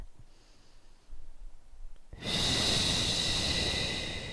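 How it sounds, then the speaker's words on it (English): Breathing during a seated chair yoga wrist stretch: a quiet inhale, then a long, loud, steady breath out that fills the rest of the moment, with no talk. "Breathe."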